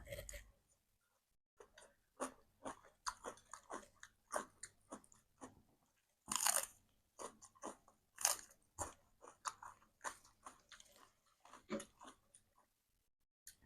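Someone eats crispy grilled pork with papaya salad and rice noodles, giving loud close crunching bites and chewing in irregular bursts with quiet gaps between.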